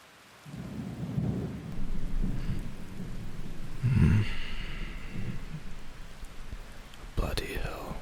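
Heavy rain pours steadily through a thunderstorm, with a deep rumble of thunder swelling near the middle and another sharp crack near the end.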